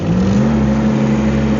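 Rippa R13 and R15 mini excavators race in high gear, their small engines revving in a steady, loud mid-pitched drone held close by for a moment with no talk.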